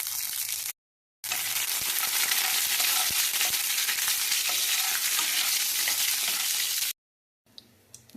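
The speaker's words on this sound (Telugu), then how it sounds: "ఆవాలు, జీలకర్ర, ఎండిన మిరపకాయలు, కరివేపాకు వేసుకున్నాం" Mustard seeds, cumin, dried chillies and curry leaves sizzling in hot oil for a tomato chutney tempering, a loud, close, continuous frying hiss with small crackles and pops, cut off by brief silences near the start and end.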